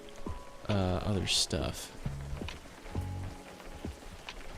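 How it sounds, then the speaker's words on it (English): Rain pattering in a fishing video game, a steady faint hiss under someone talking loudly in bursts. "I guess it's raining in the void"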